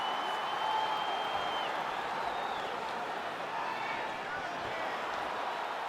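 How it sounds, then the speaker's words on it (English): A UFC arena crowd keeps up a steady roar and cheer between rounds of a fight, dense and continuous from start to finish, with some whistles rising above it. "This crowd is going sick after what they saw in that previous round."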